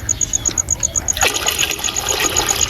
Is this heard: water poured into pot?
yes